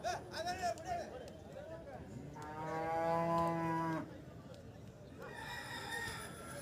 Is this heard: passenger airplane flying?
no